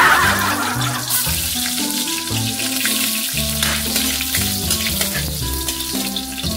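Garlic, onion and ginger dropped into hot cooking oil in a pan for chicken tinola, giving a loud, steady, close sizzle throughout, with musical background tones underneath.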